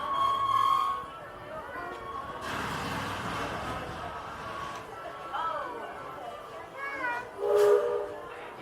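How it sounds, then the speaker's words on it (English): A Magic Kingdom train rolls along and slows to a stop, with faint rumble and squealing wheel and brake tones under steady background noise and an announcement voice. "Please remain seated until the train has come to a full and complete stop."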